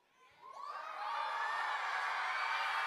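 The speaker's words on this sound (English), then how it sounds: "can I get a really big woohoo if you're really excited to be here" A large audience of children in a school read-aloud event rising into a loud, sustained cheer and 'woohoo', swelling within the first second and holding steady.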